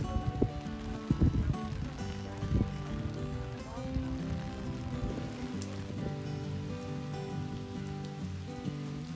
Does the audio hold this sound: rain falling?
yes